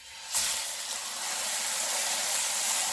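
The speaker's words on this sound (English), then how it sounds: "I'm going to just plop that in there and we're going to let it sear 5 to 6 minutes." A fatty pork butt, laid fat side down, hits the hot surface of a crockpot with a sudden loud sizzle that settles into a steady, close frying hiss.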